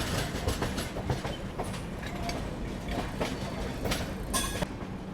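Magadh Express train rolling into New Delhi station after crossing Shivaji Bridge, heard from aboard as a steady rumble with clickety-clack wheel beats over the rails and occasional sharper metallic squeals.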